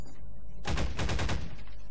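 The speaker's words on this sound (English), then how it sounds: "some more Overwatch cannons" Overwatch cannons in Half-Life 2 let loose a short, rapid burst of heavy automatic fire, loud and sharp, lasting under a second against a quiet background.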